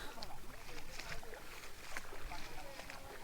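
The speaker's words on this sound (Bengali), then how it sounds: "ঠেলার পর এক পর্যায়ে নৌকা আবার চলমান কিন্তু তারপরও নৌকা যাচ্ছে না" A wooden river boat is pushed by hand through knee-deep, clear, flowing water near Balasighat and the Erendabari char in Fulchhari, with a steady rushing, splashing wash of water and wind noise throughout.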